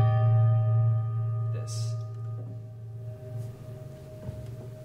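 Prepared piano with brass screws wedged between the strings, a low struck note ringing loud with metallic buzzing overtones and slowly decaying, followed by fainter softer strikes.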